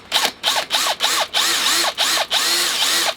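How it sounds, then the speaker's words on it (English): A power drill whirs in short repeated bursts, its pitch rising and falling with each squeeze of the trigger as it bores through bone. "we've got to try and drill a hole"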